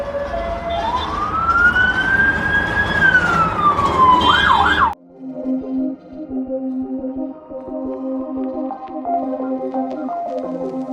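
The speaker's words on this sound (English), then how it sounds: "We've got more sirens than we know what to do with." A wailing emergency siren in Cambridge sweeps up and down loudly, then cuts off abruptly, leaving quieter background noise with faint tonal sounds.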